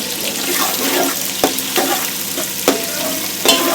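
Sliced onions sautéed in a pan for masale bhat, a continuous sizzle with a spatula stirring and scraping, a few distinct knocks against the pan, no talking.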